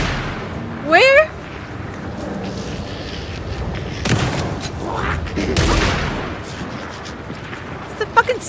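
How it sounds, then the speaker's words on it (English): Sniper gunfire in the video game Alan Wake II: a few sharp, separated shots ring out across the stretch, some with a rolling tail, between quieter moments and a brief voice. "It's a fucking sniper fight?"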